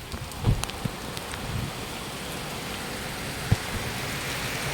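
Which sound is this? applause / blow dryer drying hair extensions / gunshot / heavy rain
heavy rain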